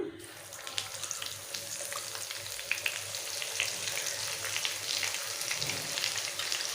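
Ginger garlic paste frying in oil in a pan, a continuous bright crackling sizzle with scattered sharp pops, held steady and close with no one talking.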